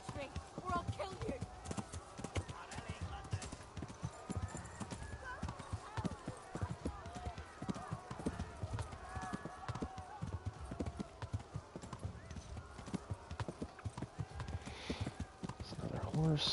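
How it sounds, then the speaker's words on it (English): Horse hooves galloping in the medieval video game Kingdom Come: Deliverance, a steady, continuous clip-clop running throughout at moderate level beneath voices and other game sounds. "It's another horse."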